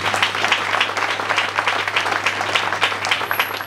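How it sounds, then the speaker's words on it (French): Audience applause at a parliamentary visit and borehole inauguration, a sustained crowd clapping at steady moderate volume over a low constant hum. "Je pense que ça mérite des applaudissements"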